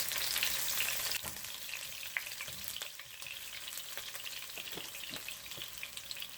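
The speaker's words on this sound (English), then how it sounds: "I have like 2 tablespoons of oil in that pot. It's nice and hot there now. We'll go in with the onion." Onion tipped into about two tablespoons of hot oil in a non-stick pot, giving a soft, even sizzle with a few light clicks and taps of stirring, fairly quiet and steady throughout.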